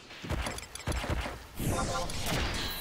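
The Double Shot ability firing in Final Fantasy XI: a quick cluster of sharp hits followed by a sweeping whoosh effect, with game sounds layered under someone speaking.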